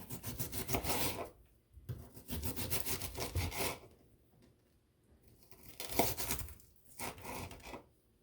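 A knife dices food on a cutting board while a chili dog casserole is prepared, giving quiet, rhythmic bursts of rapid chopping and scraping separated by short pauses.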